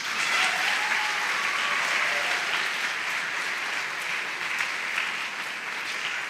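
A church congregation claps during a Sunday homily, producing dense, continuous applause that stays fairly loud and even for several seconds.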